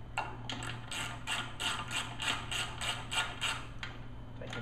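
A small bolt is tightened on a Briggs & Stratton lawn mower engine, likely with a ratchet, producing a quick run of soft, even clicks over a low steady hum, fairly quiet and close.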